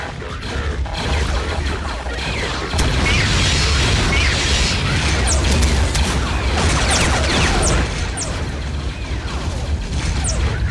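A grenade detonates in a Garry's Mod Clone Wars roleplay battle, a loud sustained blast and rumbling crash filling the scene, with scattered sharp cracks of gunfire over the continuous roar.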